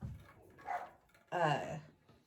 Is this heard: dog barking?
yes